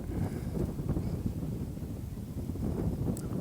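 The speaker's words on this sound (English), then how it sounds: "You can tell it's windy" Low, rumbling wind buffets the microphone continuously on a Yorkshire golf course fairway, a dense blustery roar with no voices.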